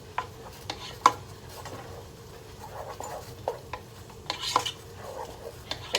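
A spoon stirs sauce in a pot, giving soft scraping and occasional clinks against the metal, a few sharper taps standing out over a low, quiet kitchen background.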